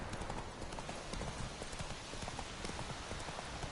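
Hooves of Roach, a horse in The Witcher 3, clip-clop in a fast, steady gallop, a continuous near rhythm of thudding steps that fills the whole stretch.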